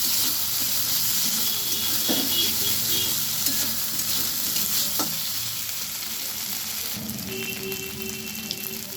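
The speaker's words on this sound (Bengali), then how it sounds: "আলুগুলো ভালোভাবে ভেজে নেওয়ার পরে আমি এবার আদা বাটাটা দিয়ে দিচ্ছি" Ginger paste dropped onto fried potatoes in a hot pan, sizzling steadily and loudly with occasional scraping clinks of a spoon, easing slightly toward the end.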